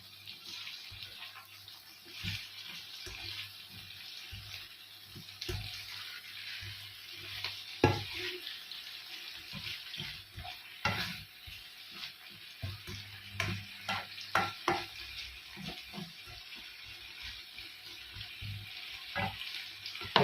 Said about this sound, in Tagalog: Ilagay na po natin yung paa ng pitsay. Ayan, para mag-gisa po siya.